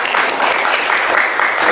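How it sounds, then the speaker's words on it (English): Loud, continuous applause from an audience at a spiritual enlightenment expo in Scottsdale, Arizona, a steady dense wash of clapping filling the whole moment. "Let us give them a round of applause."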